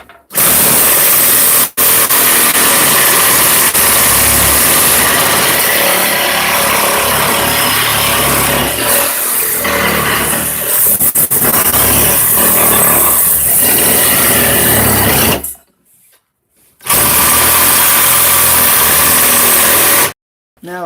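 A Sawzall reciprocating saw cutting through frozen meat gives a loud, steady, harsh buzzing drone that cuts out briefly near the end and then starts again.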